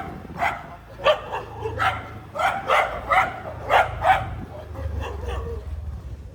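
A dog barks repeatedly in a series of about ten sharp barks and yips, moderately close, over a low engine hum, with the barks tapering into softer sounds at the end.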